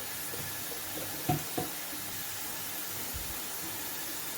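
Onions salted to brown faster, frying in a pan for a Guntur-style chicken curry, give a faint, steady sizzling hiss with a couple of soft clinks near the middle.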